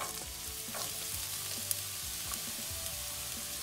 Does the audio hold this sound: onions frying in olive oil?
yes